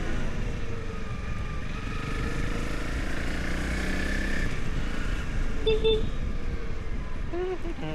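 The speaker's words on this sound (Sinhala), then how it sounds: "බයික් එකේ මම තාම හරියට කොහෙවත් ගියේ නෑ" Motorcycle ride on the road toward Nuwara Eliya, with a steady engine drone and wind rumble running throughout. A couple of brief beeps come near the end, and faint voices may sit under the engine.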